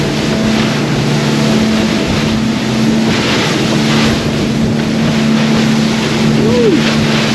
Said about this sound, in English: Boy, George is running that thing spicy.